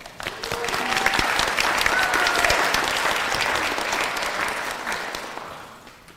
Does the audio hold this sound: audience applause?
yes